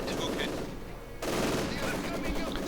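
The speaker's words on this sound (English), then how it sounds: "The MG42 here a bit limited." Sustained gunfire in a Company of Heroes match, with an MG42 machine gun among dense battle noise and explosions, briefly dipping before resuming at full loudness.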